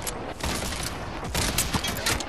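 Dense, continuous gunfire rattles from players shooting in Fortnite on PS4, rapid overlapping shots and bursts filling the whole stretch loudly, with no talk over it.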